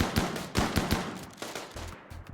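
Rapid bursts of small-arms fire from colonists shooting at foxes in the video game RimWorld, crackling volleys of overlapping shots with short pauses, moderately quiet and with no speech.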